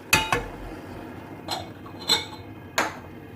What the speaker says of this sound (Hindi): सबसे पहले एक पैन ले लेंगे, फ्लेम कर लेंगे ऑन